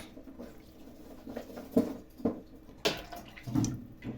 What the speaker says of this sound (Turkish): soğuyan şerbetimizi ılık olan kadayıflarımızın üzerine bol bol dökerek yediriyoruz